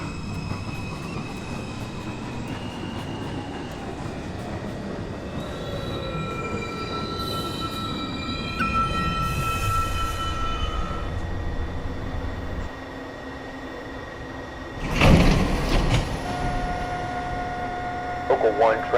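A NYC subway 1 local train pulls into 207th Street station, wheels squealing loudly as it slows, with rumbling cars and an automated announcement voice over the platform.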